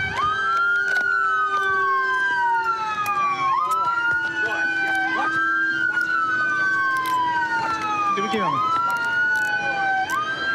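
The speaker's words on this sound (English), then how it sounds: "Hey, cut that siren." A loud police car siren wails up and down in repeated sweeping cycles close by, while police officers shout brief commands over it during an arrest.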